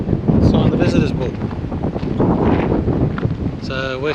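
Strong wind buffets the microphone outdoors on the Eyre Peninsula coast, a steady rough roar, with people talking over it.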